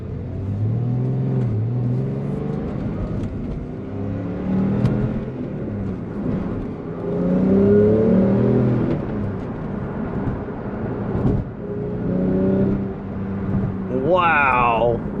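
A Porsche 911 GTS engine pulling hard from inside the cabin, a loud rising drone with shifting pitch over about fifteen seconds, with voices speaking in the car.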